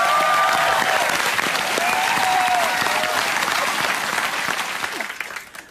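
A studio audience on a television music quiz show claps in loud, dense, sustained applause that holds steady before fading out at the end.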